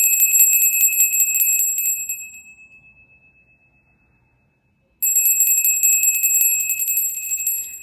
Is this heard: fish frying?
no